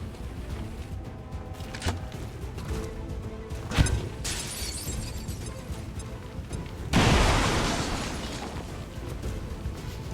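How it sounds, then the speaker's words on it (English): A grenade detonates in the game XCOM 2, a sharp blast followed by a second, louder burst that rolls off into a long crashing rumble over a dense, noisy game soundtrack. "Grenade out!"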